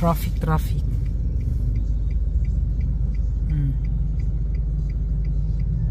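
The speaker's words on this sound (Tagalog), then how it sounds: "Traffic. Laging traffic." Heavy road traffic rumbles steadily around a car stuck in a jam, a low continuous engine drone heard from inside the cabin, with a few brief voices and faint higher tones early on.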